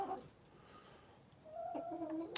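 Chickens and roosters cluck inside a backyard coop during afternoon egg collecting. A short burst of clucking comes first, then a quiet gap, then longer, louder calls from nearby birds.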